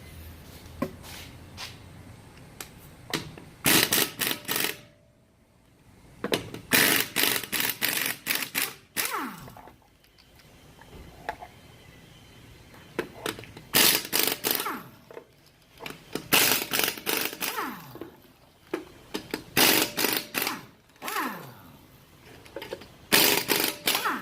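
The 17mm lug nuts come off a Ram Promaster City front wheel during a brake job. About seven loud, rattling bursts of a few seconds each are separated by short quiet gaps.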